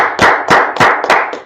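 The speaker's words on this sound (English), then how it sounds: "Let's clap it up for the Lord." Close, loud clapping at a Tuesday brotherhood class, about five sharp claps in an even rhythm.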